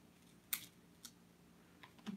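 Scissors trim excess tape off a thickboard craft tag, giving a few quiet, crisp snips at irregular intervals against near silence.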